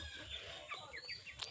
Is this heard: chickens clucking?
yes